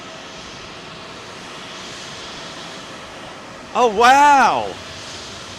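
A steady, distant aircraft jet engine roar rumbles continuously near runway 27L at London Heathrow Airport, with a person briefly exclaiming over it.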